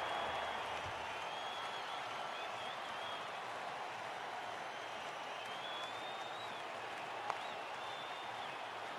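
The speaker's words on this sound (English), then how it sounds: "Crowd's gone mad." Crowd roar from a cricket video game swells steadily and loudly throughout, a continuous wash of cheering and clapping with one brief sharp click near the end.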